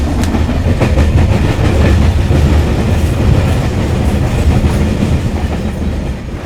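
A TAZARA railway train rolls past close by, loud and steady, its wheels clattering over the rail joints in a continuous rhythm with no voices.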